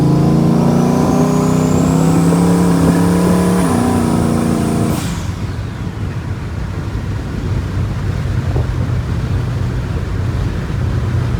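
A loud turbocharged Ram truck engine revs up with rising pitch, then drops sharply as the transmission shifts, settling into a steady rumble with wind noise.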